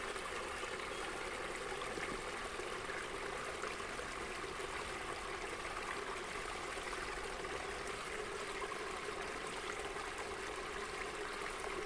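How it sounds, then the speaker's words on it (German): A small forest stream runs out of the woods in a steady, close trickle and babble that continues unbroken, with no talking. "hier ist jetzt ein Waldbach zu hören"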